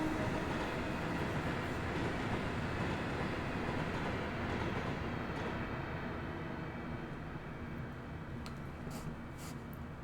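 Steady, continuous running noise of a Class 385 electric train in Train Simulator Classic, using reused Portsmouth Direct Line unit sounds, with constant rumble and faint rhythmic clatter throughout, no voices.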